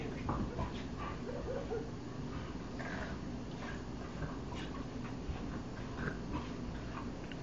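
Dogs whimper and make small yips and snuffling noises close by, irregular and fairly quiet against background noise.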